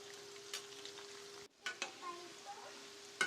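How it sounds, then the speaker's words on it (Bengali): Potatoes fry in soybean oil with turmeric and salt, a soft sizzle with a steady hum, cut by a brief dropout, then scattered stirring clinks and spatters, close but quiet. "প্রথমে আলুগুলোকে ভেজে নিব, ভাজা একটু হলুদ গুঁড়া আর লবণ দিয়ে আমি ভেজে নিব।"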